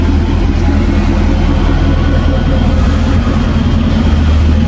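A Jaguar XKR-S V8 engine idles loud and close, a steady deep rumble with a throbbing low pulse that holds evenly throughout, no voices over it.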